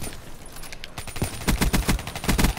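Rapid bursts of gunfire in a shooter video game, firing as the player drops toward the ground, with loud repeated shots crowding the second half after a quieter start.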